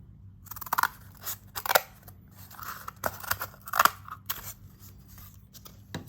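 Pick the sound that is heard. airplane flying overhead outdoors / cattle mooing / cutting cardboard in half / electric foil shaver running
cutting cardboard in half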